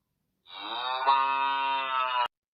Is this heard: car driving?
no